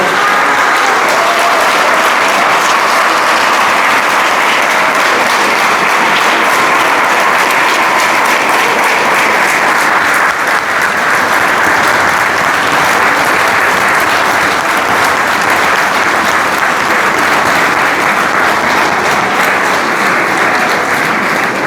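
Audience at a book presentation breaks into loud, sustained applause, a dense wash of many hands clapping steadily for over twenty seconds with no pause.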